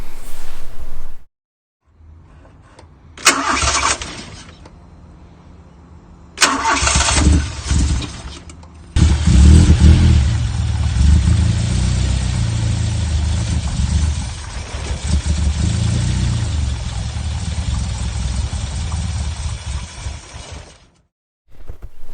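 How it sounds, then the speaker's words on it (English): A car engine cranks and catches after a couple of short bursts, then settles into a steady, loud running idle for several seconds before cutting off. "what you just saw then was my car running midweek"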